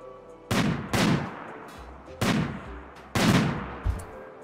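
Colonists firing guns in RimWorld Ideology, heard as four loud, sharp gunshots at irregular intervals, each with a short decaying tail, followed by a smaller thud.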